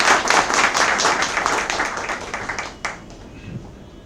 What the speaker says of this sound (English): We can have a good round of applause for Mr. Das.